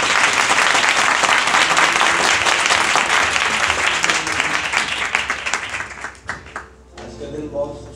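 Loud, dense applause from a church congregation fills the space, holding strong before breaking up into scattered claps and fading, with a voice emerging as it dies away.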